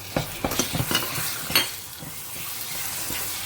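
Vegetables are stirred in a cooking pot with quick, close scraping and clinking strokes of a spoon over a faint sizzle, busier at first and then settling into a steady hiss.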